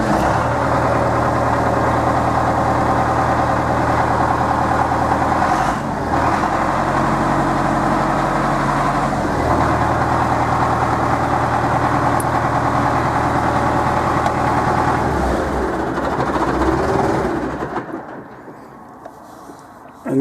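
Belarus 920 tractor diesel engine running and idling with a deep, steady rumble close by, a brief dip and rev change partway through, then cutting off near the end.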